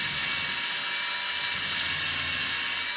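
A power drill bores a 13/64 inch pilot hole, 1/4 inch deep, for a towel bar screw in wood or drywall, making a steady high-pitched whine for about three seconds with no talk.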